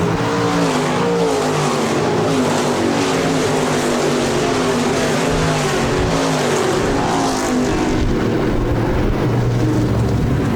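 Stock cars roaring around the dirt oval at Park Jefferson Speedway, a dense, loud, continuous wash of engine noise from a packed field running side by side, with no voices heard.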